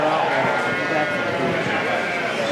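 Sheep bleat in a livestock show ring as a ram lamb class is judged, with nearby bleats mixed into steady crowd noise and talk.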